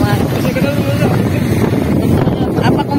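Motorcycle ride on a road between Calamba, Tagaytay and Lemery, Batangas, dominated by steady, loud rushing wind buffeting the microphone, with the engine lost beneath the roar.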